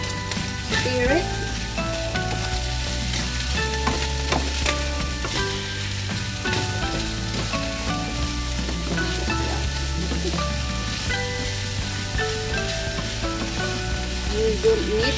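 Bean sprouts stir-fried in a pan give a steady, loud sizzle with scraping stir strokes throughout, mixed with a constant background hum.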